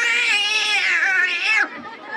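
A voice imitates two cats fighting: a long, loud, wavering yowl that rises and bends before breaking off abruptly into a short, lower growl.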